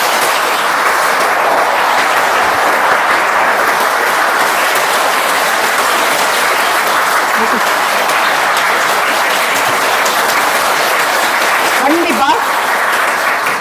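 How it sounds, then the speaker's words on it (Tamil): Audience applause at a talk on women's safety, a steady, loud, continuous wash of clapping from a large crowd that holds evenly from start to finish, alone without speech. "ஒரு பெரிய கைத்தட்டல் தட்டிக்கோங்க"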